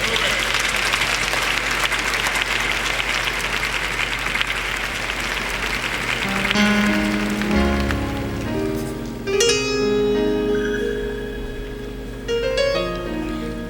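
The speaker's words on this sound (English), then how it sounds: "Come on, clap your hands and give the Lord some praise." Church congregation clapping their hands in praise during a gospel service, a steady loud wash of applause that fades as organ and music chords rise in the second half.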